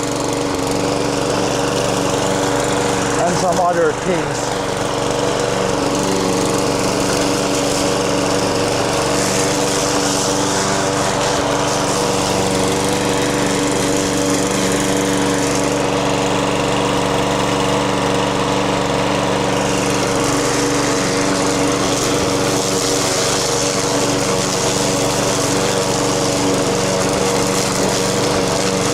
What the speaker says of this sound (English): we'll do just a little bit of mowing here first